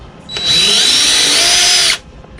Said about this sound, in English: So I'm going to get in here with the drill